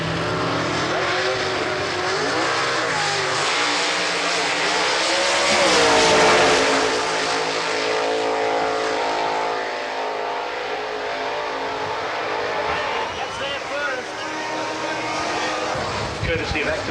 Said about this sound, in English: here's the Commodore, really leaps off the start line in C gas